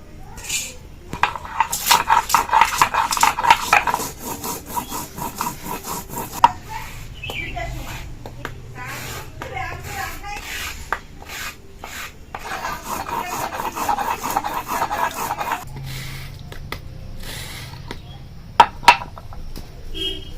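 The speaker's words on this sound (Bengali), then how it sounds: "এবার শুকনো লঙ্কাটা বেটে নিব" Soaked dried red chillies are ground on a flat grinding stone, giving a close, steady rasping scrape in repeated back-and-forth strokes, with a few sharp knocks near the end.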